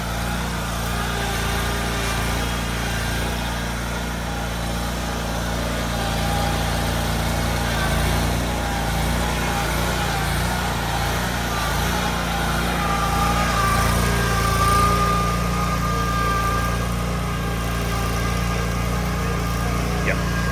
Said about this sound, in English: I'm going to show you guys on a normal mower how it does, just so you can see